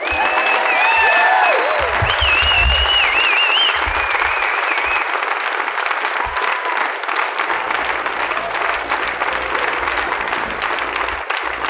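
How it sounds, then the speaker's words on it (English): A comedy club audience at a 1995 stand-up special bursts into loud, sustained applause lasting over ten seconds, with whoops and whistles early on before it settles into steady clapping. "applaud for me like I just did a great job."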